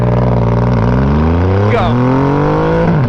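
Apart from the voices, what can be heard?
Triumph Rocket 2.5 litre motorcycle engine revving and launching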